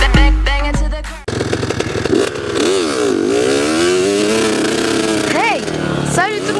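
Motocross motorcycle engine on a ride, captured on a mounted microphone: a loud, close engine with rising and falling revs and whining pitch sweeps, briefly overlapping music at the start.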